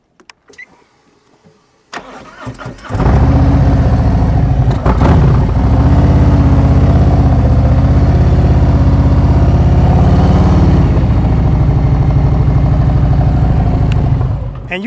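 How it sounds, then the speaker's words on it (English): A motorcycle engine during a riding lesson, starting quietly and then rising into a loud, steady throttle drone that holds for about twelve seconds before easing off. "Listen to the throttle."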